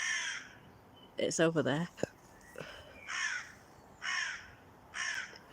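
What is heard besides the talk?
crow cawing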